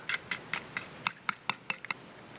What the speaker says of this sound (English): after I get through whisking, you definitely want to taste it